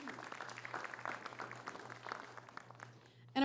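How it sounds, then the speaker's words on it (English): Modest applause from a film festival panel audience, soft and scattered over a steady low hum, ending abruptly. "Let's give everybody a round of applause."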